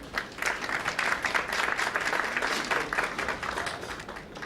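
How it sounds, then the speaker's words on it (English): A round of applause at a ceremonial lamp lighting opening a workshop on AI for school teachers, with dense clapping from the gathered audience swelling in and holding steady. "A big round of applause."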